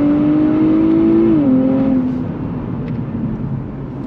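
A 2023 Nissan Z sports car engine pulls hard on throttle toward its 7,000 RPM redline, a loud rising engine note that shifts with a gear change and then fades as the revs drop away.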